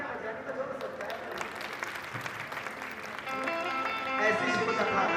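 Audience clapping at a Shiv Mahapuran katha, a religious discourse in Tapa Mandi, Barnala, Punjab: a steady wash of many hands from a sizeable crowd, swelling louder toward the end, with voices mixed in.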